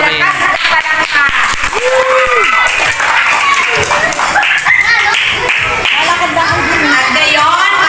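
Children and families at a Christmas party clap and cheer through several seconds, lively mixed applause with shouting voices and chatter throughout.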